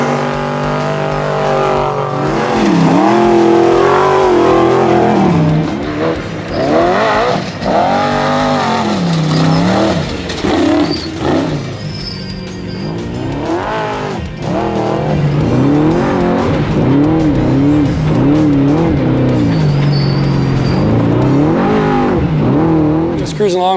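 An off-road race truck drives hard at the start of a race, its loud engine revving and shifting up and down through the gears as it accelerates close by, with a brief tire squeal.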